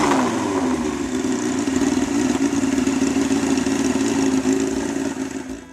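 A steady, loud motorcycle engine, a 1074cc air/oil-cooled inline four-cylinder, roars continuously at a constant pitch, close by, with no voices.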